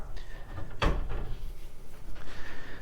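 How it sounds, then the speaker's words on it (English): A door of a large old pine wardrobe swings shut with one solid thud, followed by faint rattles and a low room hum. "So let me just close this one door up."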